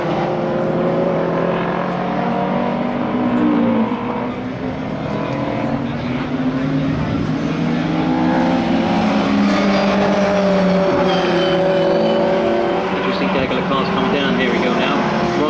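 Lightweight track race car with a 4-speed gearbox and about 160 horsepower at the wheel on a shakedown run, engine revving and climbing through gears in a sustained, loud drone with shifting pitch.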